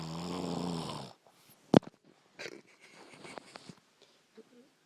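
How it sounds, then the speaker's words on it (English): A sleeping person gives one long, loud, rasping snore, followed by a sharp knock and scattered faint rustles and small movement noises in a quiet room. "Dude, you're snoring."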